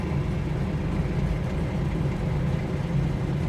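A 1970 Chevrolet Nova engine idles steadily, a continuous low rumble with a fairly even pulse, close and moderately loud with no talking.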